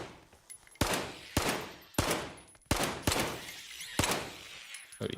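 Rapid bursts of gunfire in the shooter game STALKER GAMMA, loud and close, arriving as several sharp volleys with brief gaps between them, no voices.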